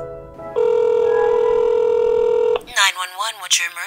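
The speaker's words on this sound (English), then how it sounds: "He picked up the phone and dialed 911." A telephone dialed for an emergency call, a loud steady electronic tone held for about two seconds, then cut off and followed by warbling, rising ring-like tones close up.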